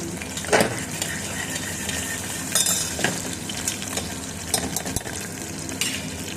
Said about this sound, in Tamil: சீரகம் மல்லி விதை பொரிஞ்சோடனே பூண்டு, 2 பச்சை மிளகா, வரமிளகா போட்டு நல்லா வணக்கம்.